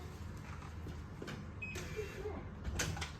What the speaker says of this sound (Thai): เปิดประตู